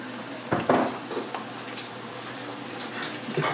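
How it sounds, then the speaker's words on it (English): Metal spoon scraping and clinking against a cooking pot as powdered shrimp is stirred in, a few close taps and scrapes over a quiet background hiss. "Stir it for like 30 seconds."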